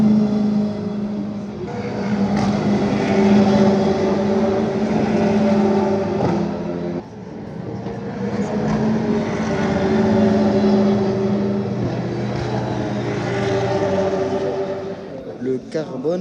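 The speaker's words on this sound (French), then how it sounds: "Il y a une GT qui arrive là." A GT race car pulls into the pit lane at a Formula 1 circuit, its steady engine drone running continuously and fairly loud, dipping briefly midway before building again, with crowd or background voices underneath.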